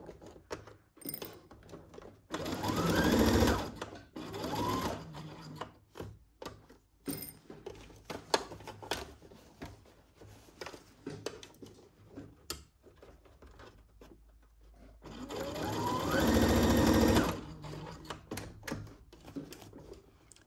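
A home sewing machine stitches in two clear bursts of rapid mechanical whirring, near and moderately loud, separated by quieter handling clicks and rustling.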